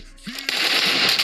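Gunfire in the PUBG video game: a rapid burst of automatic shots, loud and close, running steadily over game noise.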